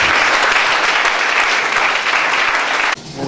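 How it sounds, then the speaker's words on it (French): A congregation at a church service claps loudly and steadily for about three seconds, a dense, close burst of applause that drops off sharply near the end, with no talk over it. "Acclamons très fort pour ça."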